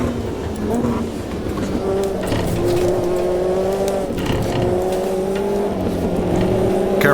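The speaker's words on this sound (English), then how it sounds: "I'm almost doing a burnout on these tires getting off the grid" Metalmoro MRX P3 prototype race car launching off the grid with wheelspin in the AMS2 racing game, the engine droning and rising through the revs under a steady tyre and road rumble.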